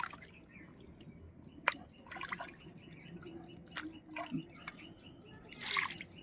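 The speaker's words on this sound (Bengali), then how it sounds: "আমি প্রথমে মাংসটা ভালো করে ধুয়ে নিচ্ছি।" Pieces of raw mutton being washed under running water, with intermittent drips, splashes and trickling at moderate distance and no speech.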